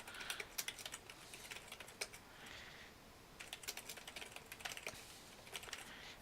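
Quick, uneven keystrokes on a computer keyboard as form fields are filled in, arriving in short bursts with brief pauses, close and fairly quiet with no talking.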